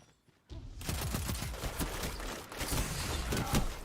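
Sustained heavy machine gun fire in a video game, dense rapid bursts rattling continuously after a brief quiet start, loud and close with no voices over it.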